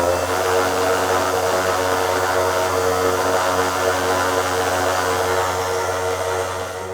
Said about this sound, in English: So the motor is considered as a load. So I'm going to turn it on.